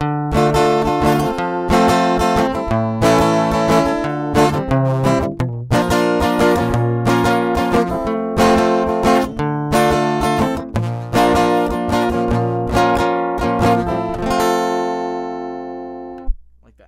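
Strummed acoustic guitar plays the chorus chord progression of a song, full and rhythmic, loud and close, ending on a ringing chord that fades out.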